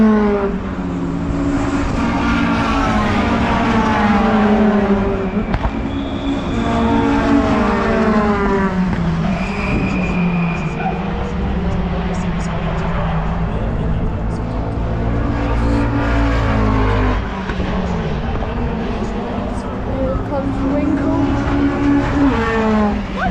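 Race cars lapping Donington Park Circuit in a continuous, loud engine drone with rising and falling pitch sweeps as cars pass, talk running over the noise throughout.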